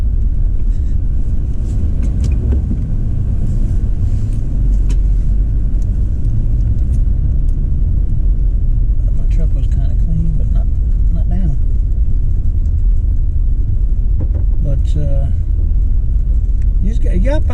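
A car drives along a forest road on Brown Mountain, its steady low engine rumble and road noise continuous throughout, with someone talking over it in places.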